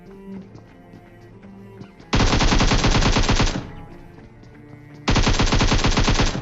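Automatic gunfire in the PUBG Mobile video game, two loud sustained bursts of rapid shots about a second and a half long each, separated by quieter game ambience.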